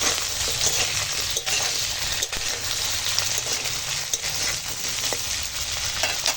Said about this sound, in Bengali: শুকনো লঙ্কাগুলো একটু ফাটানো আছে ফোড়নের সঙ্গে একটু ভাজবো